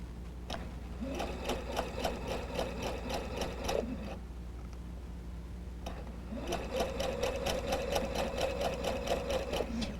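A sewing machine stitches a curved seam on a Double Wedding Ring quilt in two steady runs of rapid, even needle strokes, close and alone, with a short pause between bursts.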